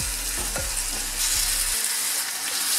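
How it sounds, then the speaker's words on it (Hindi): Chicken coated in masala and yogurt sizzles steadily in a pan, with a few dull knocks and stirring thumps in the first couple of seconds before the frying hiss carries on alone. "इसके अंदर चिकन ऐड करेंगे, अच्छे से सारा चिकन डालेंगे"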